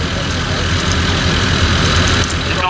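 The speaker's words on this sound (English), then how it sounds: "driving our tractor here today" A John Deere tractor at a ScotGrass silage demonstration runs with a steady, low engine rumble that holds at an even, loud level throughout the short stretch.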